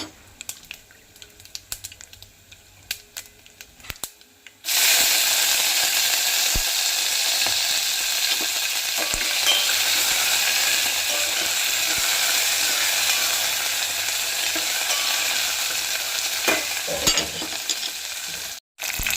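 Curry leaves and fresh coriander hit hot oil for a tempering in an Andhra-style spinach dal: after a few seconds of light clatter, a loud, steady sizzle bursts up and holds close and continuous, with no talking.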